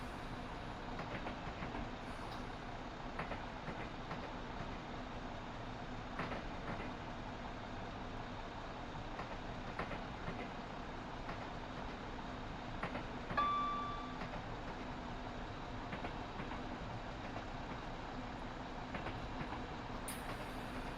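Simulated train climbing uphill on the Goblin line in a rail simulator game, a steady low rumble with faint rhythmic wheel clatter and a brief high tone midway, constant and fairly quiet.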